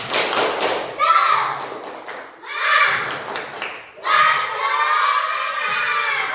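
A group of children shouts together in bursts while clapping rhythmically, three loud rising phrases separated by brief pauses.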